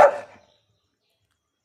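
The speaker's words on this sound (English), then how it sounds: "Okay, bark." A single short, close dog bark on command rings out at the start, then silence follows.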